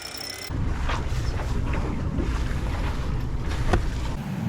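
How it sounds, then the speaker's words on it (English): A sailboat motoring under engine power at about 1800 RPM with the jib being furled, giving a steady low engine drone mixed with water rush and wind noise, continuous and fairly loud throughout. "So it looks like we'll be motoring most of today."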